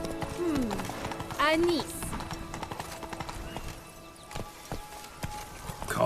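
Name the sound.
horse hooves galloping in video game The Witcher 3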